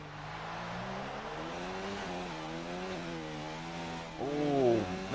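F2 race car engine in a racing video game at the Chinese Grand Prix, running in overtake ERS mode: a steady, loud high-revving whine with shifting pitch that climbs sharply and grows louder near the end.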